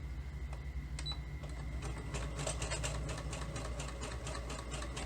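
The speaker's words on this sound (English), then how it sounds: "This is usually a very, very well-behaved sewing machine." A sewing machine runs steadily with a rapid mechanical clatter over a low motor hum, close by, with no talking.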